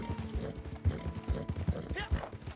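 Hoofbeats of a fast level 4 horse in Red Dead Redemption 2 Online, a steady galloping rhythm of low thumps with someone talking over it.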